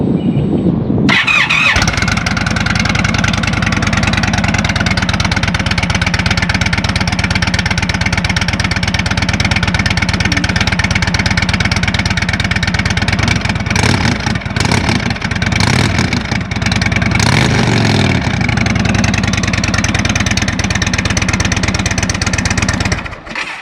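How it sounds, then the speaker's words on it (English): A 2021 Indian Roadmaster motorcycle engine starts up and idles loudly close by, with sharp throttle twists producing rising revs and rough bursts in the middle before it settles and cuts off near the end. "Turn on your engine, give it a twist on the throttle."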